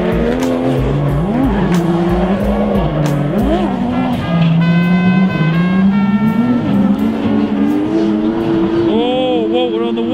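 Several drift cars with Nissan running gear race around a track. Engines rev loud and close, rising and falling, with tire squeal and skids over the roar.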